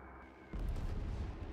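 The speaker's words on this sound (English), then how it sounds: "See if we can dive bomb that tank again." A dive bomber's bomb striking a tank in the WW2 turn-based strategy game Total Tank Generals, heard as a sudden loud booming explosion followed by a sustained rumbling roar.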